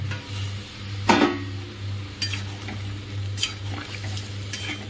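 Pointed gourd sizzling in a pan with a spatula scraping and stirring every second or so, over a steady low hum.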